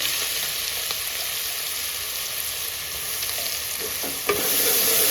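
Loud, continuous hiss of ground spice paste frying in a pan over tempered cumin, with light scraping of stirring, a small clatter near the end.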